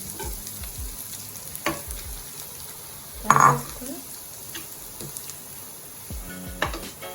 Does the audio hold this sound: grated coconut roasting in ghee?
yes